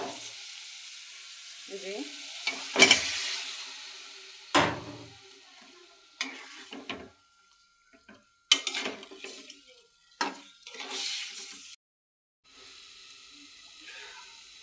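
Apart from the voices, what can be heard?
stirring loitta fish with tomatoes and spices in pan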